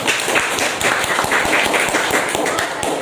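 A classroom group claps in a short burst of quick, sharp, evenly spaced hand claps, fairly close and loud, lasting a few seconds.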